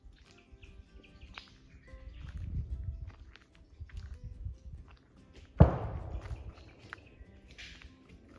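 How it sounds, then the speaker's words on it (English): One sharp, gunshot-like bang cracks out on a mangrove forest trail in Koh Lanta, Thailand, loud against a quiet background of faint footsteps and distant bird chirps. "That sounded like a gunshot."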